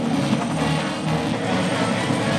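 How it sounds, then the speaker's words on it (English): Helicopter in the 1985 film Rambo II, a continuous loud engine and rotor drone with a low throbbing rumble and no speech. "the helicopter's still working."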